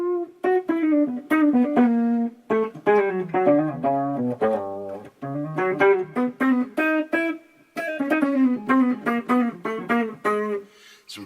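A warm, mellow electric guitar, a Line 6 Variax modeling a semi-hollow 335-style tone with the tone knob rolled off, plays jazz chords and single-note lines, rounded and soft-toned, alone with clear pauses between phrases.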